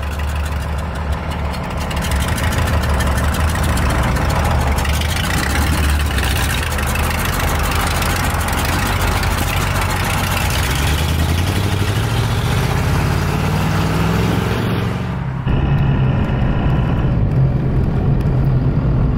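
A 1978 Dodge Power Wagon truck's engine drones loudly and steadily from inside the cab while driving, its pitch slowly rising and falling with speed, with no talk over it.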